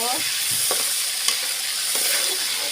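Shrimp fry in hot oil, a bright continuous sizzle close by, broken by a few scraping stirs and clinks of a spatula against the pan.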